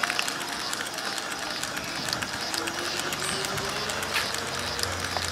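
A plastic welding extruder switched on and running, purging ABS before polyethylene feeds through for repairing a broken plastic water tank, giving a steady mechanical whir with clicking and a low hum that rises partway through.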